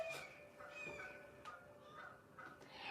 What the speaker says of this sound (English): The bird's going crazy.